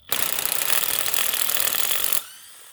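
An air compressor in a garage, running during a spark plug change on a 2011 Toyota RAV4, gives a loud, steady, rough hiss-and-rattle for about two seconds before cutting off abruptly into quiet.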